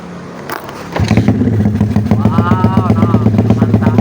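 A Yamaha MX New motorcycle engine catches after a second of quiet, then settles into a loud, close idle with repeated throttle blips and revs, while voices talk briefly over it.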